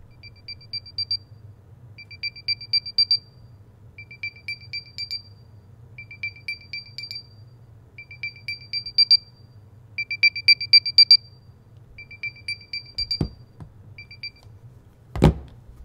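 High electronic beeps from Beats Solo 4 headphones' find-device sound in quick bursts repeat steadily for about thirteen seconds over a low hum, followed by two sharp knocks.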